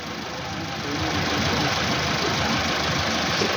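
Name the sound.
engine revving under load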